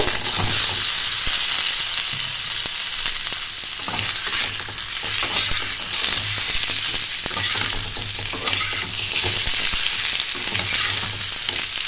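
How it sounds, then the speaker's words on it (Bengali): Continuous sizzling of salted boiled potatoes frying in hot oil, with repeated stirring and scraping in a pan, busy and close, no voices. "500 গ্রামের মতন আমি সেদ্ধ করে রেখেছিলাম নুন দিয়ে, একটু ভেজে নেব।"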